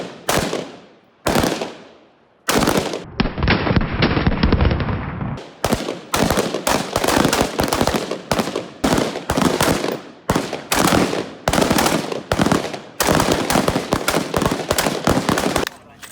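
Carbine rifle fire at an outdoor shooting range: loud, sharp shots ring out one after another in a steady string, with a brief stretch of continuous noise early on and short gaps between the reports.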